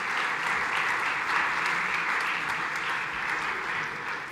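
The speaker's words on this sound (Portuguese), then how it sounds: "que merece um aplauso também" Sustained audience applause fills a ceremony presenting the 2019 commemorative coins marking 600 years since the discovery of Madeira and Porto Santo, steady and fairly loud throughout with no pause.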